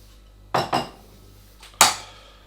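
A utensil knocks and scrapes against a dish three times as mature cheddar is mixed through pasta. The clinks are sharp, close and separated by quiet gaps, with no voices.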